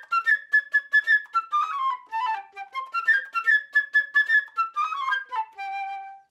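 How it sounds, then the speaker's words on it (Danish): Flute plays the bird's theme from Peter and the Wolf: a quick, chirpy solo melody of bright trills and runs, ending on a held note, clear and close with no voices. "Og fuglen, den bliver selvfølgelig spillet af en fløjte."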